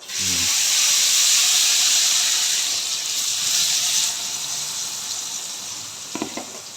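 Jackfruit chips frying in hot oil: a loud, steady sizzling hiss that carries on throughout, with a faint stir near the end.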